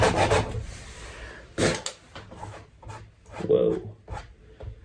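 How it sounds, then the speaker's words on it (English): A rasp files wood in short, gritty rubbing strokes with irregular pauses between them, close up, while a person talks. "I'm taking this rasp first."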